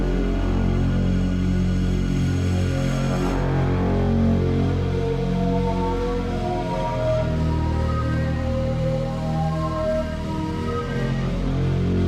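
Reversed music playing back from cassette, the intro track of an album, with sustained droning tones and swelling layered pads, steady and even in level for the whole stretch with a faint hum beneath.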